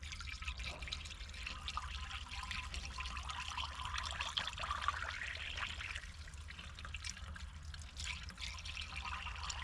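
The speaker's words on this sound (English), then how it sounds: "Pouring the water now." Water is poured into an abandoned car's radiator, a faint, continuous trickle and splash with soft gurgling, quiet and steady over a low background rumble, without any talking.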